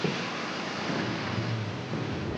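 New Shepard rocket engines igniting at launch from Launch Site One in Texas, a dense, roaring rumble that fills the brief moment steadily without a break.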